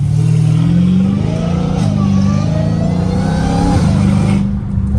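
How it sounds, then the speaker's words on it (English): A straight-piped Dodge Hellcat Redeye rumbles loud and close, its deep exhaust dipping through downshifts and crackling burbles over a steady low drone. "Oh my gosh, those burbles are so beautiful."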